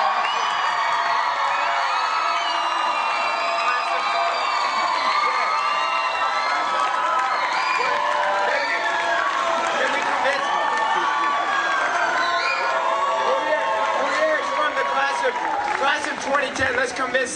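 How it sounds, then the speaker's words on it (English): An outdoor concert audience at Dogwood Dell cheers and whoops for an encore, a continuous, loud wash of shouting and cheering voices with scattered higher yells and some applause throughout. "a large crowd calling for their return."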